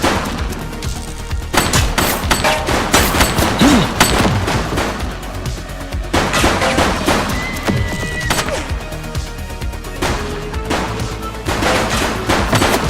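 Gunfire from a shooting suspect in The Precinct, loud rapid bursts of shots crackling in dense volleys with brief lulls between them, sustained and harsh throughout.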